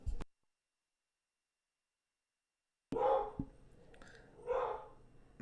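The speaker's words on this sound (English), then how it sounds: "Let me see if the dog's gonna stop or if I'm gonna have to go distract him." A dog barks a few times after a stretch of silence, a sharp yelp at the start, then two louder barks a little over a second apart, fairly close indoors.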